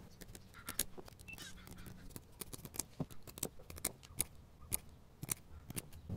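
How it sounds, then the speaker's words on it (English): Scissors snip repeatedly through thick foam pieces while shapes are cut for a microphone windscreen cage, giving crisp, close cuts at an irregular pace with small handling rustles between them. "I'm just going to start out by chopping out the shapes I need to build my cylinder."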